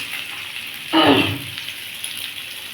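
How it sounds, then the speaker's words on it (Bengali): Washed bitter gourd pieces dropped into hot oil in a pan, a sudden loud hiss and splatter about a second in that quickly settles to a quieter sizzle. "আমি এবারে ধুয়ে রাখা উচ্ছেগুলো দিয়ে দেবো"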